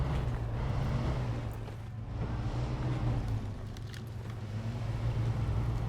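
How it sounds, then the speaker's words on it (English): A truck engine revving in the SnowRunner video game, heard as a continuous low, rumbling drone, fairly quiet and steady, with no speech. "I have got to put some revs into it."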